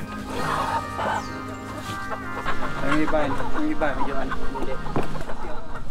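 Many free-range chickens cluck and squawk close by in a busy, restless chorus as they are unloaded, with a person speaking briefly and machinery humming underneath.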